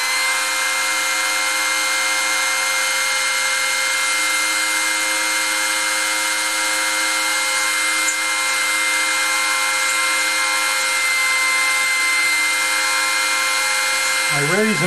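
A drill press boring into wood while building a covered bridge, a steady, sustained mechanical whine with a high tonal hum that holds evenly throughout, easing off only at the very end.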